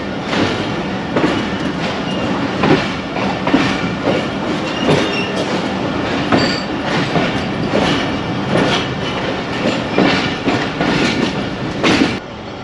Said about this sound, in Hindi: ट्रेन बहुत ही आहिस्ता चल रही है।